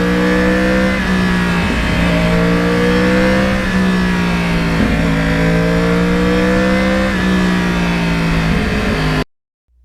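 A Yamaha R1 crossplane motorcycle on back roads, its engine revving up through the range in repeated climbing sweeps, loud and close, then cutting off abruptly near the end.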